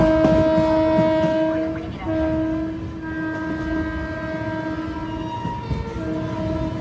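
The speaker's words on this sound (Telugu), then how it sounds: "లోకోమోటివ్ని హార్న్ని ఓ దంచి పడేస్తున్నారు" Amrit Bharat Express locomotive horn sounding on the run into Chennai Egmore, a long sustained multi-tone blast with a brief break near the middle and again toward the end, loud and close over steady rail rumble.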